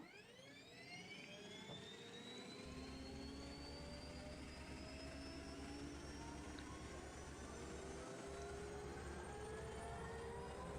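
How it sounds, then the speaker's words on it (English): A pulse jet furnace in a modded Minecraft world runs with a steady, faint jet-like roar that thickens a few seconds in, when a low continuous hum joins it; no talking. "This pulse jet furnace is now heating up, and it is working."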